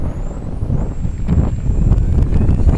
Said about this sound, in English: Got a little wind out.